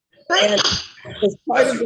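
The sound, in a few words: sneeze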